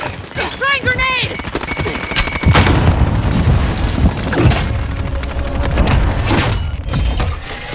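A grenade blast in Call of Duty: Modern Warfare erupts with a heavy, booming roar, preceded by brief gunfire and voices and followed by rumbling debris and scattered shots, loud and close.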